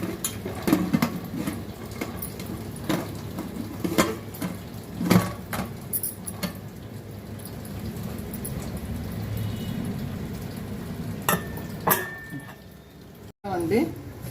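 A metal lid clanks onto a pressure cooker pot while country chicken cooks in a village kitchen, with a few sharp knocks near the end beneath steady speech and kitchen noise.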